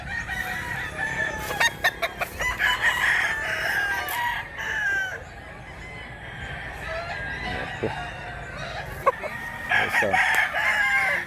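Chickens cluck repeatedly while a rooster crows loudly nearby, with a brief spoken word and some outdoor background noise.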